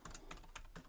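A few quick, light keystrokes tap on a computer keyboard, close and quiet, in a short irregular burst.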